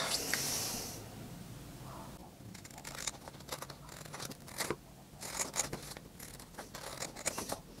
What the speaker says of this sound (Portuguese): Agora vamos cortar.